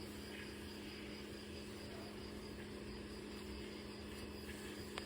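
A small cricket-like insect buzzes close by like a tiny helicopter outside a French chateau, a steady continuous drone with a low hum beneath it and no talking.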